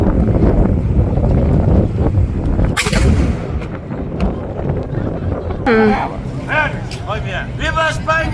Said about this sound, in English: what we really wanted to see and hear was them fire off that cannon